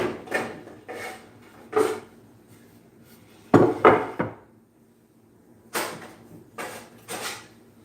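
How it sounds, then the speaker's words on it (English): Stainless steel pans are pulled out of a kitchen drawer or cupboard, giving a series of clattering knocks and scrapes in short bursts with pauses between them, heard close by with no talking. "I'm going to grab out some pans."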